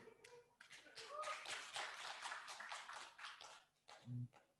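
People at an indoor workshop on film-sector modules clap in short, light bursts, fairly faint and uneven, with a brief low thump near the end.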